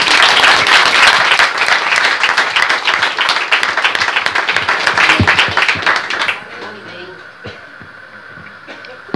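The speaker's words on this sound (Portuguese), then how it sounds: "Uma salva de palmas para Jesus." A church audience at a closing service bursts into loud, dense applause that carries on for several seconds and then dies down to scattered claps and a quiet room.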